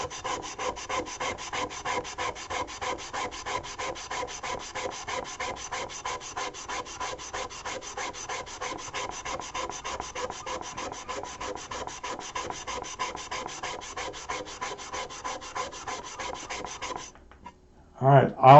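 Pot metal rubbed by hand with an abrasive, a fast rhythmic scrubbing rasp of many even back-and-forth strokes, close and steady for about seventeen seconds before stopping with a couple of brief scrapes.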